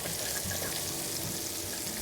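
Onions frying in oil in a pot for a country pot roast, a steady close crackling sizzle that holds evenly throughout with no voices.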